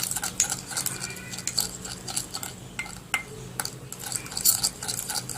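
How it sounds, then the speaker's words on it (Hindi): A fork stirs and mixes Tibet Snow Cream with added ingredients in a small bowl, giving a run of light, quick metallic clicks and scrapes close by, with no one talking. "कांटे से बहुत अच्छा मिक्स हो जाता है"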